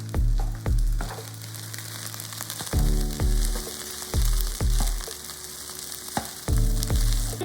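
Egg fried rice is stirred with oyster sauce in a pan over a loud, steady sizzle. Repeated scraping and clanging strokes of the utensil against the pan come in quick bursts, close and with no talk.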